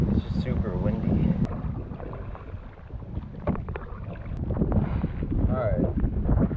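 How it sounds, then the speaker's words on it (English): Strong gusty wind buffets the microphone on a lake during kayak fishing, heavy low rumble surging and easing, with water sloshing near the kayak and faint voice sounds mixed in. "It's just super windy."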